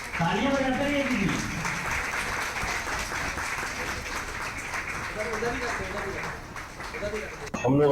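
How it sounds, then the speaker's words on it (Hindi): Audience applause at a village council gathering in Kannauj block, Uttar Pradesh, a steady dense clapping that runs the full length over a loud voice speaking at the start, ending with a sharp burst. "तालियां बजाते रहिए दीदी।"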